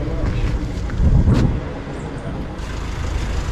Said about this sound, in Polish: To jest auto, które nas zawiezie.